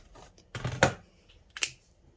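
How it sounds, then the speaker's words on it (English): Scissors snip through fabric and quilt batting in a few close, crisp cuts, with quiet pauses between the strokes. "And cut that triangle off."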